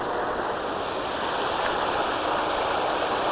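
Floodwater about 8 to 10 inches deep pours across a flooded highway on Bryant Way, a steady, loud, broadband rush of flowing water that stays constant throughout with no voices.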